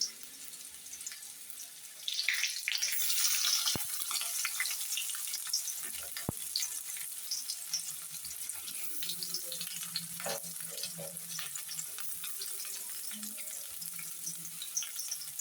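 Chopped onions and green chillies fry in a pan with a steady, close sizzle that swells after a couple of seconds, with occasional stirring scrapes and clinks over the continuous hiss.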